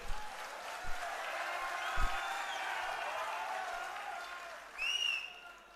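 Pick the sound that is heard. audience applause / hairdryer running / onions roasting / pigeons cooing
audience applause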